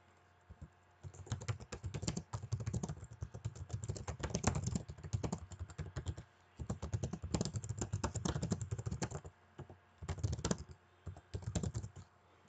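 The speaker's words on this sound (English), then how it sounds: "I'm just going to type that." Bursts of computer keyboard typing with short pauses between runs of rapid key clicks, close and clear, during a competitive Pokémon match in the DCDL finals.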